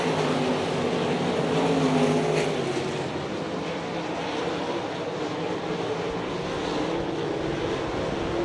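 World of Outlaws sprint cars race on the Hartford, Ohio speedway in 2002, a continuous heavy engine roar from a pack of cars that swells briefly and stays loud and dense throughout.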